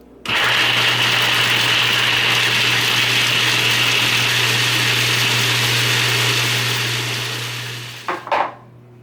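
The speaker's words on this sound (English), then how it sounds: "Run the food processor for about 40 seconds for each batch." A food processor whirs steadily at full speed as it blends a batch of falafel mixture, a loud continuous motor drone lasting about eight seconds before it cuts off with a few brief clunks.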